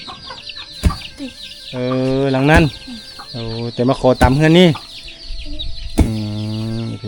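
Chickens cluck and call loudly and close by in a remote mountain village near the Laos–Vietnam border, a series of drawn-out squawks and clucks with sharp thumps between them, and a person speaks briefly.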